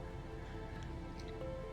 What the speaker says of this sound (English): Oh, here it comes. Here comes the rain.